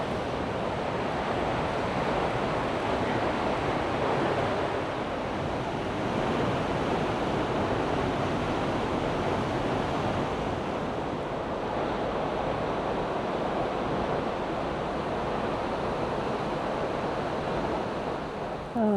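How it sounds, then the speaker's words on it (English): Steady, full roar of an Oregon waterfall heard from the walkway behind the falling water: a dense, unbroken rush of crashing water for the whole stretch, with no voices. "We're gonna go behind these falls. It might get a little bit loud."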